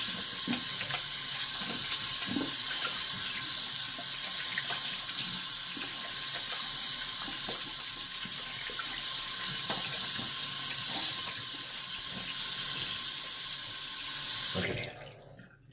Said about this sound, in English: Rinse out. Cold water.